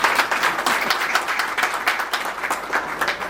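A crowd at a retirement ceremony applauds together, a dense, steady patter of many hands clapping close by, lasting the whole stretch without pause.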